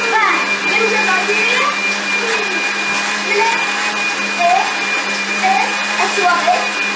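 Homemade yogurt ingredients churned in a blender that runs loud and close with a continuous, even motor roar, while a voice is heard faintly in the background.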